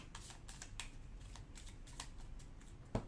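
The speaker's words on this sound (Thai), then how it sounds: "ผมแบ่งไพ่ออกมาเป็น สองกอง" Playing cards being handled and split into two piles during a Japanese card magic trick: soft, close riffling and sliding card sounds repeating in quick bursts, ending with a single sharp tap, with no talk.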